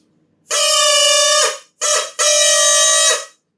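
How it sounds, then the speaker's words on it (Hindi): Two drinking-straw flutes of different lengths are blown together, making a loud, reedy chord like a train horn: one long blast, a short burst, then another long blast, with no talking. "तो ये एक ट्रेन के हॉर्न जैसी आवाज आती है"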